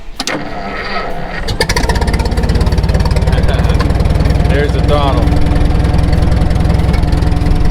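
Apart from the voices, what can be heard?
70-year-old International T9 crawler bulldozer engine starting and idling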